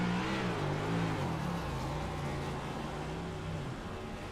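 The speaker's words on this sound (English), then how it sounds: "3-way burnout." Three cars doing a simultaneous burnout at a championship race in a sim racing video game: a loud, sustained, wavering engine roar with a droning pitch that sags toward the end, and no voices.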